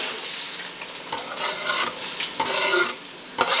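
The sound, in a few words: onions added to hot groundnut oil, sizzling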